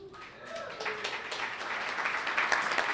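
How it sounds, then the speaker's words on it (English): An audience at a conference event claps in broad, steady applause that swells and keeps going, with a voice speaking faintly over it near the start. "I'm so glad you're clapping"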